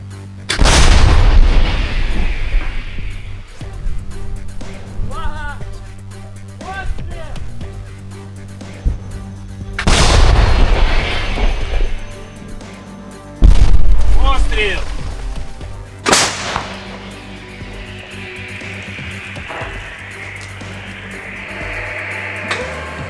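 Three heavy blasts from an M109 self-propelled howitzer, each a sharp deep boom with a long rumbling tail, spaced several seconds apart amid a steady engine hum and occasional voices.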